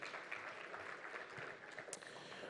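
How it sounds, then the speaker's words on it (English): Audience applause at a bank-sponsored business breakfast meeting, a quiet, steady wash of many people clapping heard from a distance, continuous across the moment with no talk over it. "Atwafo, a big round of applause for him, please."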